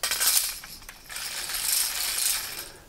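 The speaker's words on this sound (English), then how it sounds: "The belt is fed through the launcher using this sprocket, which is connected to this gearbox in the back so that we can rotate it using this crank." LEGO gearbox and sprocket of a rapid-fire spring shooter turned by a hand crank, giving fast ratcheting clicks in two close bursts with a brief dip between, loud and near, with no talk.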